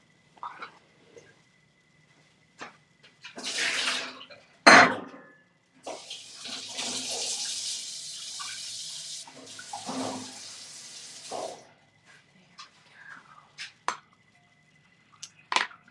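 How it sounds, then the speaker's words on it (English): Tap water running in bursts while an enamel piece is rinsed off at a sink, with splashing, a sharp clink and quiet handling noises between the pours. "I'm just going to rinse this off and get some fresh water."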